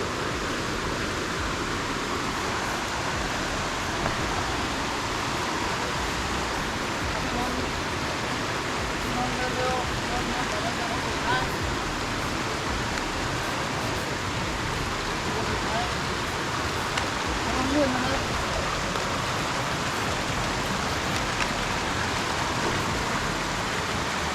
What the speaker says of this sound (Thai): ได้ยินเสียงน้ำตกแล้ว เสียงน้ำตกชัดขึ้นเรื่อย